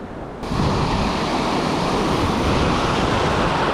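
Waves breaking over a reef on a fairly calm day after Hurricane Beryl give a loud, steady wash of surf that swells up after the first half-second and roars on without pause, mixed with wind buffeting the microphone and no voices.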